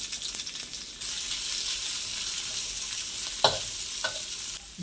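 Garlic, ginger and shallots fry in a pan with a steady broadband sizzle, stirred now and then, with two short scraping clatters near the end.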